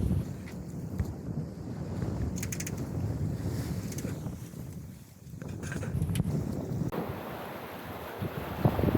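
Wind gusts across a microphone aboard a sailing boat on the open sea, with waves washing against the hull in a continuous loud rush.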